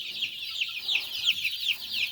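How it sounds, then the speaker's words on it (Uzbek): Chicks being raised by a mother turkey make rapid, high-pitched peeping and cheeping calls in quick succession while they run around. The calls are steady but fairly faint, with no voices. "Mana shunday sog'lom jo'ja ana shunday chopib"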